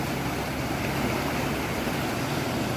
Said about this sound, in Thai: ำไหลแรงมากนะครับ